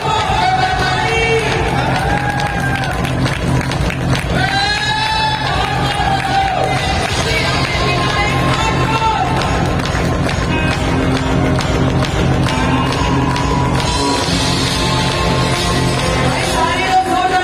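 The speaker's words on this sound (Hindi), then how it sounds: "सारे लोग जोरदार तालियों के रूप में बधाई दीजिए।" Large indoor stadium crowd in Raipur cheering and whooping for a smartphone prize winner, a dense sustained roar with yells and whistles throughout, fairly loud and close.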